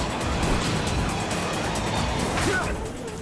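Racing car engine and tyre skid while drifting through a corner in Sonic All Stars Racing Transformed, a continuous loud engine roar with a brief screech near the end.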